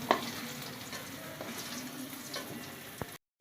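Potatoes frying in oil until reddish-brown for a rohu fish curry, a steady close sizzle with a few stirring clinks, then sudden silence.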